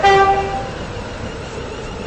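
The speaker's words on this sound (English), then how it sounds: "This train is now approaching Coxley." A Class 707 electric train runs along the rails, a brief tonal whine at the start fading quickly into a steady, low rolling rumble that continues without voices.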